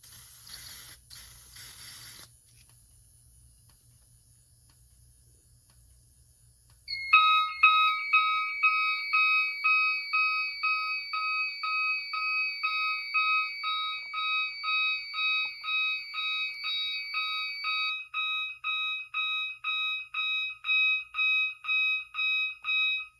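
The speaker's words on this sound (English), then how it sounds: "now to activate the smoke detector." A faint hiss gives way to a loud electronic fire alarm on a Notifier AFP-100 panel, triggered by a smoke detector, repeating rapid high-pitched beeping pulses in a steady rhythm that continues to the end.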